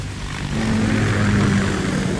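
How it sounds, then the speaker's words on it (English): Kamov KA-60 Kasatka helicopter in Metal Gear Solid 2 gives a steady low rotor and engine drone that swells slightly partway through, heard alone without talk. "KA-60 Kasatka. Kasatka? Kamov chopper, right?"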